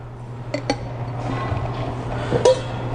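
A couple of light metallic taps on the side of a cocktail shaker tin to release it, then a sharper clink against metal, close and brief over a low hum.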